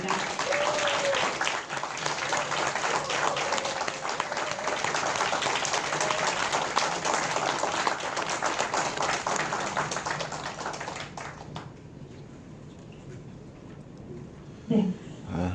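An audience claps at a press conference for a Seoul education superintendent candidate, giving about eleven seconds of dense, sustained applause that then stops abruptly, leaving quiet room noise.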